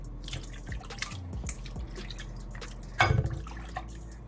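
Beef being rinsed under water at a kitchen sink while making red peas soup, with scattered close drips and splashes, a few small sloshes and one louder burst of water midway, and no voices.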